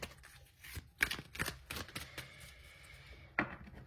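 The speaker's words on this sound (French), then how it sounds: "Et je vais prendre 3 dernières cartes." Tarot cards are drawn and handled at close range, giving soft papery flicks and brisk shuffling rustles in short bursts, with quiet gaps and one last sharp snap near the end.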